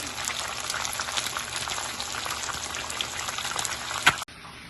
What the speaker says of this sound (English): The fish is frying nicely.